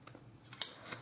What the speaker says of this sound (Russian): выровнять ножницами